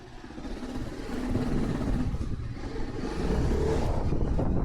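Motorcycle riding in Thane, Mumbai, on a KTM or TVS bike, with a steady low engine drone and rolling road noise that swells slightly as it goes, heard up close with no talking.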